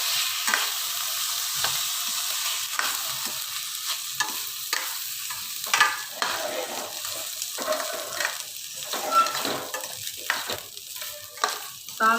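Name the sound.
washed rice sautéed with dry fruits in a pan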